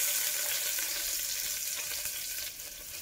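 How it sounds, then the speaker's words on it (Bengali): Chopped onion frying in a pan, a dense, steady bright sizzle close by that eases slightly toward the end, with faint stirring and no talk. "এবারে এতে অ্যাড করব একটু পেঁয়াজ কুচি"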